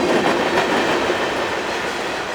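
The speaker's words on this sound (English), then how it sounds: "Just a few more grain cars, and that'll wrap it up" CSX freight train grain cars roll past close by with a loud, continuous rumble and faint clatter of wheels on rails.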